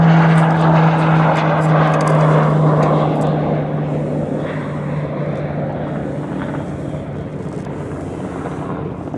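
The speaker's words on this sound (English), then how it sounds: "there goes our turboprop" A loud, steady turboprop airplane drone with a strong low hum, gradually fading as it passes and moves away over Cape May, with some wind noise.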